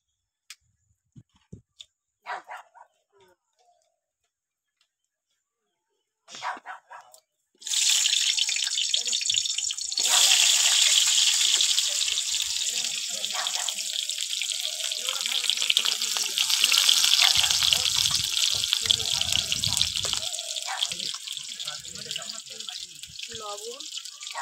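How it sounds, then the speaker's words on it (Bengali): Potato pieces sizzling in hot oil on a home stove for a Bengali chicken curry with potatoes, a loud steady hiss of frying that starts abruptly after a few quiet knocks and continues without letting up. "দেখুন, আমি তেল দিয়ে আলুটা ভেজে নেবো।"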